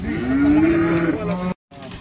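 A cow gives a long, loud moo at close range at a cattle market, followed by a brief silence and a fainter second call.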